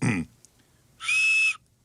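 A slide whistle gives one clear, sustained piping note of about half a second, heard after a short burst of a voice and standing out alone against a quiet background.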